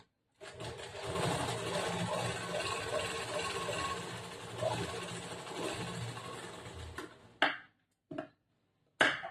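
A sewing machine stitches blouse fabric in a steady, close-up mechanical whir lasting several seconds, then stops and gives a few short separate bursts at the end.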